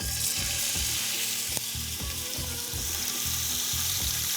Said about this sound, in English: We're gonna let it sear for about 3 minutes on each side